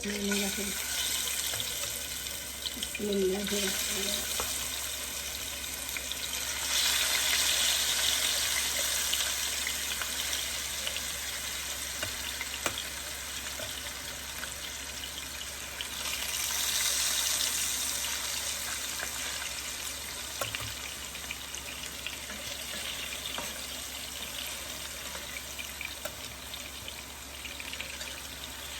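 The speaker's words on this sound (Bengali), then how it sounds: "এখানে মাছ ভাজার জন্য আমি সরিষার তেল আর সয়াবিন তেল ফ্রাই প্যানে গরম করে নিচ্ছি এখন মাছগুলো দিয়ে দেবো" Fish frying in hot mustard and soybean oil in a frying pan sends up a loud, continuous close-up sizzle and spatter that swells and eases at times, with occasional light clatter and brief talk.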